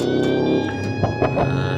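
Police car siren in BeamNG.drive on a built-up street in Italy, a steady wailing tone held over engine rumble, with a few short bursts cutting through near the end.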